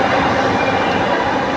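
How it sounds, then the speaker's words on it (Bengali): Kolkata Metro train at Dakshineswar station, a steady loud rumble of rolling carriages and rail noise filling the whole stretch, close and continuous with no talk. "এই মুহূর্তে আমি দক্ষিণেশ্বর মেট্রোতে উঠবো"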